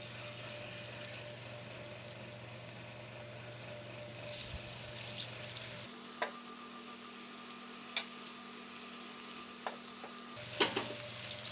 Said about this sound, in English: So when the oil has heated up, we're going to put the fish in.